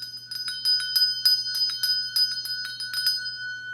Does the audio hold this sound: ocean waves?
no